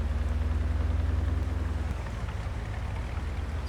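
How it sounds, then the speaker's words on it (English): Steady rain pattering in Farming Simulator 22, a dense, even wash of drops on the farm with a low engine-like hum underneath that fades out partway through. "it's been raining since about 3 o'clock this morning"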